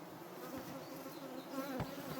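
Honey bees buzzing steadily around an opened hive during a honey harvest, a dense close swarm drone with a few louder passes near the microphone.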